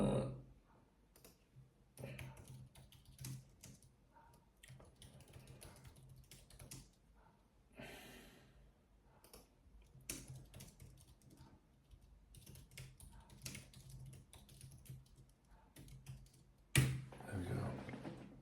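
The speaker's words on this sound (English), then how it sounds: "I was going to type Richard Hughes into the computer" Typing on a computer keyboard comes in scattered bursts of soft, quick key clicks at close range, pausing between phrases, with a louder clatter near the end.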